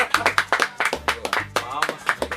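A studio audience applauds in short rhythmic bursts of clapping, close and fairly loud, with someone speaking over it throughout.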